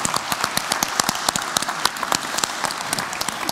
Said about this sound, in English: Let's give Lee another round of applause.